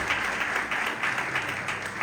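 A church congregation applauding during a family worship service, a steady, even wash of clapping from many hands at moderate volume, with no voices standing out.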